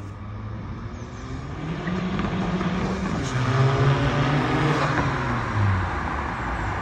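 A diesel car engine roars steadily and loudly, close by, under hard acceleration. The pitch climbs and drops as the revs change. There is constant broadband road and engine noise throughout.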